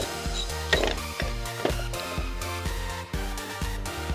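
A 10mm socket ratchet working an airbox bolt on a 2018-25 Honda Accord 1.5L turbo, quick repeated pawl clicks in a steady fast rhythm, close and mechanical, with a few harder knocks, no voices.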